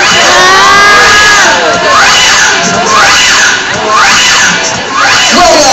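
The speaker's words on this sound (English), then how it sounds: "How about another round of applause for Isis and Annie?" Audience at an Ocean Park sea lion show reacts with a loud, sustained burst of crowd cheering and excited shouts, including children's voices, rising and falling across several seconds.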